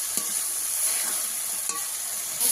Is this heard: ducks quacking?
no